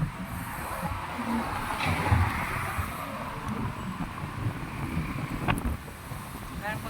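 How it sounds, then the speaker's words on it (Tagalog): Strong wind buffets the microphone with constant low rumbling gusts, while faint voices and background movement come through underneath. "Grabe ang hangin."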